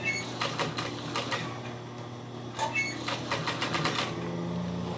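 A sewing machine runs in short bursts of rapid stitching while it sews piping onto a cosmetic bag, with brief pauses between runs and no voice.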